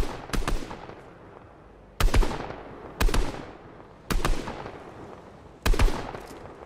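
Gunshots in Fortnite ring out in sharp bursts, each a loud crack with a quick decaying tail, spaced roughly a second apart across the stretch, with no voices over them.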